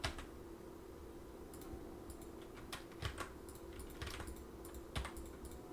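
A computer mouse clicks on objects in a software editor, giving faint, crisp, scattered single clicks and short bursts over a steady low hum in a quiet room.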